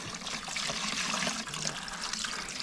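Rust remover liquid is poured over a metal part, making a continuous, fairly loud splashing and trickling wash that runs the whole time with only a brief dip midway.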